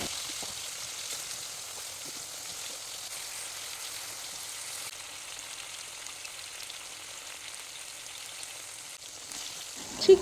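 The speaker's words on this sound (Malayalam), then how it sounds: "ചിക്കൻ നല്ലോണം ഷാലോ ഫ്രൈ ആയിട്ടുണ്ട്." Marinated chicken pieces shallow frying in olive oil, a faint, steady, fine crackling sizzle that holds evenly throughout, ending with a short clatter.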